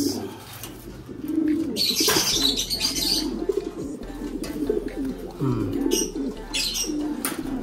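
Pigeons, including blue bar and black cross birds, nesting in a potted oregano plant, cooing softly and chirping close by, with some flapping and rustling and someone talking intermittently.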